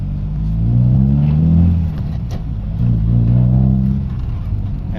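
Toyota Corolla engine revving twice in a test, swelling up and dropping back in two broad surges over a steady low idle rumble, loud and close with no voices.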